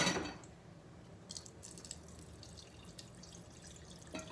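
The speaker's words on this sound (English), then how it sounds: "I'm going to take and pour some of that grease out of there" Grease being poured out of a stainless steel pot while cooking steak gives a soft, wet trickle and scattered drips near the microphone, with no talking.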